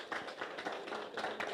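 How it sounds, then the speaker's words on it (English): A round of applause for a panel at a self-help grant distribution ceremony, steady crowd clapping with bursts of louder claps, moderately distant and continuous throughout. "Please give a round of applause"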